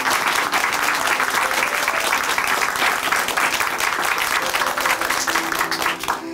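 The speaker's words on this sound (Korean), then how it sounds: "다시 한번 은미 자매님께 큰 박수 보내드릴게요." A church congregation at a Korean evangelical service claps steadily in a loud, dense round of applause that carries on without pause, close and full throughout.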